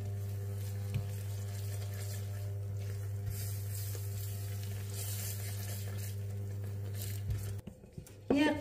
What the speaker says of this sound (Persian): همه رو با هم دیگه خوب مخلوط میکنم.